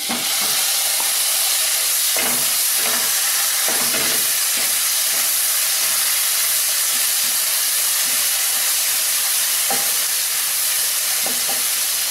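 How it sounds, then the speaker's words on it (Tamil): Yogurt hits hot masala for egg biryani and sizzles loudly, a dense continuous hiss broken by scraping stirring strokes, close and steady with no voices. "இப்போ வந்து இதில் நான் தயிர் ஆட் பண்ணுறேன்."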